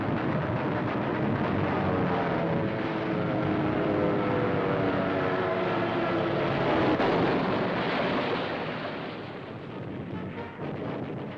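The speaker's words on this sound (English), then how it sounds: "The sky is spotted with bursting shells from massed anti-aircraft guns as they knock down the attacking planes." Wartime newsreel audio has attacking warplanes droning over dense, continuous anti-aircraft gunfire and bursting shells, loud and sustained throughout before easing slightly at the end.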